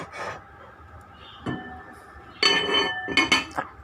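Metal clanks and clinks as a lid is set onto a pot of boiling milkfish sinigang, a few scattered knocks followed by a louder rattling burst near the end.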